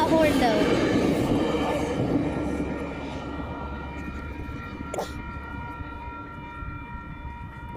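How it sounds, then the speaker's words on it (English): A Metrolink commuter train sounds its horn, a sustained multi-tone chord holding steady over the rumble of the passing train. Voices are heard briefly at the start. "I don't know why that has that horn though."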